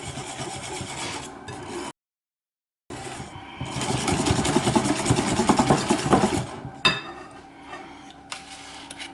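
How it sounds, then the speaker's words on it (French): Lemon cake batter being mixed in a bowl, a continuous scraping, rasping churn with a brief gap, then steadier, louder mixing with a few sharp knocks near the end. "Je mélange."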